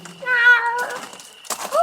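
Small cat meowing close by, one drawn-out, wavering meow followed by a short rising mew after a brief pause, with light background noise between.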